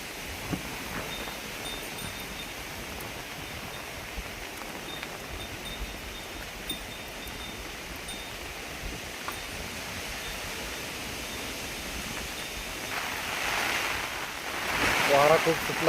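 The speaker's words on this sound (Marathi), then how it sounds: "वारा खूप सुटला आहे." Strong wind blowing steadily outdoors over rice paddies in the Konkan during the rainy season, a constant broad rushing roar that grows louder and gustier toward the end, with a voice speaking over it.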